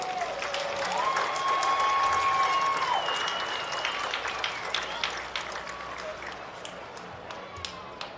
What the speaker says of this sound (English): how about a nice round of applause for the entire homecoming court?